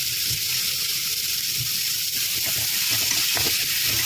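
Chopped tomatoes softening in hot oil in a pan with turmeric and a little salt, giving a steady soft sizzle and hiss that runs throughout, close and even, with occasional faint scrapes.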